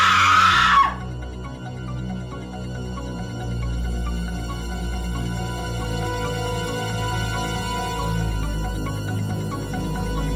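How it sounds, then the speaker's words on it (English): A woman gives a sharp, shrill scream for under a second as a horror audiobook effect, then a low, sustained, eerie musical drone carries on alone. "It was gluey and red, and Mrs. Elrod screamed"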